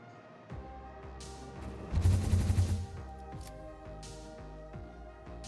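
A hyper cannon in the video game Satisfactory launching the player, a loud burst of rapid rattling blasts in a dense cluster, then lighter clanking, with no one talking.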